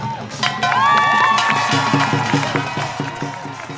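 A large crowd at a rally cheers and whoops loudly, with shouting voices and scattered applause blending into a sustained roar.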